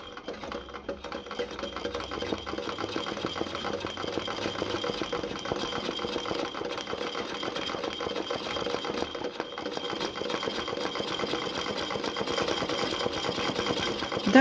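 A sewing machine running steadily through free-motion embroidery for an alliance ring cushion, with a continuous, rapid stitching chatter at close range and a consistent level from start to finish.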